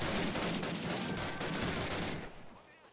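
Dense, loud gunfire from the World War II shooter Call of Duty: United Offensive, a continuous fusillade of overlapping rifle and machine-gun shots that thins out toward the end, with a voice briefly underneath.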